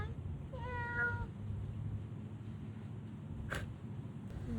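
A cat lets out one drawn-out meow over a steady low background hum, followed moments later by a brief sharp click.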